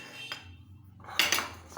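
A spoon clinks and scrapes against a bowl while mixing ingredients, two short bursts of metallic contact close up with a quiet pause between.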